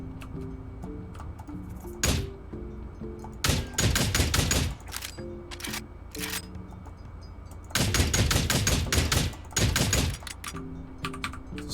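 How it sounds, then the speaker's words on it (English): Bursts of automatic gunfire in the space game Starbase, with rapid rattling volleys fired at a tank. Several separate strings of shots break out over a low steady background hum, with a long sustained burst near the end. "Just shoot it, use the gun?"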